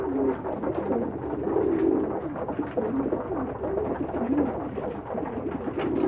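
Soft, repeated cooing from nearby pigeons, steady throaty murmurs rolling one after another over a quiet background.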